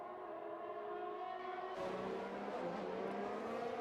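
Formula 1 cars racing in the video game F1 2021 at the Austrian GP, engines whining at high pitch with a sharp rise as another car closes in, steady and moderately loud.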